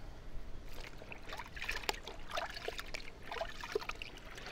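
Rinse water trickling and dribbling down a car's bodywork during a no-rinse wash in NYC, faint irregular splashes and drips running continuously up close.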